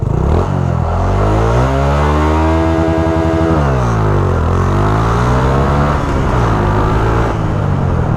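A Honda Wave 125i motorcycle engine with 13-36 sprockets revs up loudly and close by. It climbs in pitch, drops back, then revs again, with a clattery, buzzy exhaust note and no talk.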